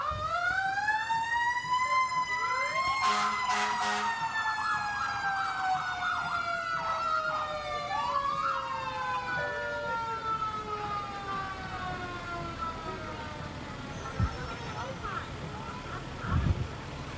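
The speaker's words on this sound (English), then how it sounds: "Stop with the siren." A wailing emergency vehicle siren at a fair parade sweeps up and down, loud and steady, with a person speaking over it near the start.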